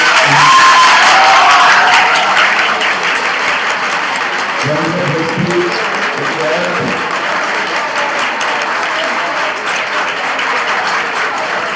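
Students in a seminar hall applaud loudly and steadily throughout, a dense sustained roar of clapping with a few voices and whoops mixed in.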